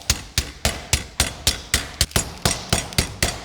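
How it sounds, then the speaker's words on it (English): Steady, rhythmic thuds of a mallet pounding chicken on a cutting board, about four blows per second, close and sharp. "Now you may not have a hammer like this."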